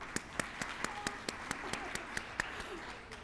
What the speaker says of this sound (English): Let's give Elisa a round of applause